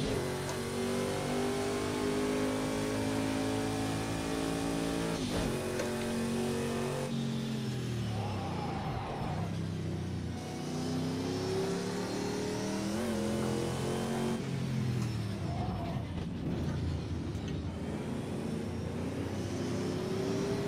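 A race car engine in Project Cars 2, played in VR, revs loudly and continuously, rising and falling as the throttle is worked and eased through corners, with no voices over it.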